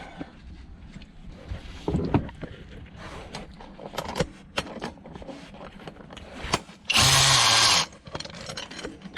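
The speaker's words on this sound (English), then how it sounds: "And this cobalt, I like it. It really torques the bolt when you tighten it" A Cobalt power tool drives bolts during engine prep on a Luhrs 28 boat, sounding as a loud, steady whir lasting under a second, amid scattered clanks and handling knocks of work nearby.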